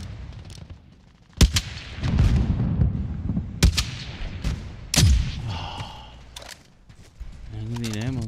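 Video game gunfire, with several sharp shots and short bursts cracking loudly over a rumbling background. Players talk over the shooting.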